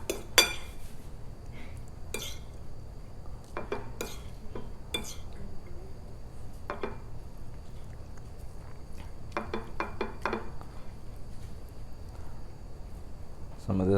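Dishes and cutlery clink in sparse, close bursts while birria de res is plated, with light scrapes between them against a quiet room background.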